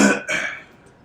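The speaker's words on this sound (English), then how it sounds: "You make me feel like I got to clear my throat." A man clears his throat twice in a podcast studio, two short, loud, raspy bursts close to the microphone before quiet.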